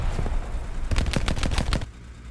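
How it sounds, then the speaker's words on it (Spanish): Gunfire in the Hell Let Loose video game: a close, loud string of sharp shots fired in quick succession, with scattered distant shots before and after. "Me llegan tiros, Alejandro, por aquí."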